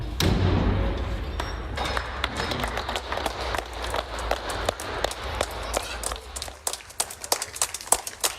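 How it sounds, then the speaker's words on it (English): Crowd clapping for NHS staff during the national round of applause on the evening of 26 March 2020, sharp overlapping claps scattered and sustained over a low rumble, with occasional louder nearby claps and thuds. "a national round of applause for all the NHS staff"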